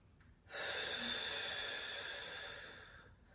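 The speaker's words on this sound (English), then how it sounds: "Taking a big breath in." A single deep inhalation during a beginner yoga session, a steady breathy hiss that swells suddenly, holds for a couple of seconds and slowly fades, close and fairly quiet with no talking.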